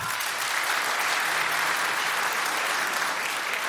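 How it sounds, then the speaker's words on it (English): Audience applause at a live comedy show, dense even clapping from a crowd that carries on steadily for several seconds. "By applause, how many people say pop?"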